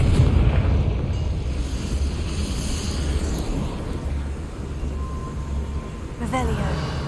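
Confringo blasting spell in Hogwarts Legacy, a loud rumbling boom that rolls on as a sustained low roar inside a small mine, with a sharper crack near the end.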